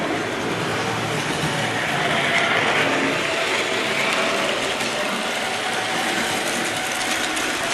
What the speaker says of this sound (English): that beautiful typical diesel noise, wheel noise again